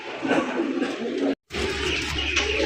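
A big yellow Indian Bombay pigeon coos in low, rolling bursts against busy market noise, with a brief cut of silence partway through.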